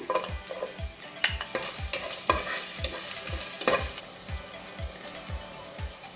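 Onions fry in a pan under a steady hiss while a spoon scrapes and stirs in a regular rhythm, with close, repeated strokes and no talking.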